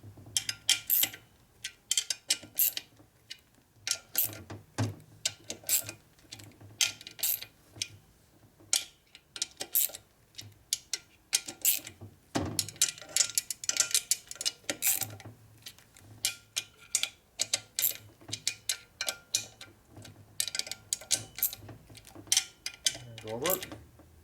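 Torque wrench clicking and ratcheting while tightening bolts on a 1965 Harley-Davidson 74ci FLH panhead engine during a rebuild, with a long run of sharp metallic ticks and clacks up close.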